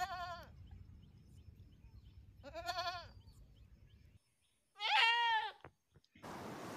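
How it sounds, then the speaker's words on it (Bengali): Young goats bleat three times in short, wavering calls, the first two close together over a low background murmur, the last louder and clearer after a brief silence. "ছয় ছাগলছানা লাফিয়ে চলে।"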